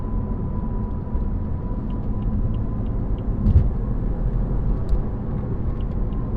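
A BMW F80 M3 drives along with a steady low engine and road rumble, continuous and close, with a faint tonal hum and no talking.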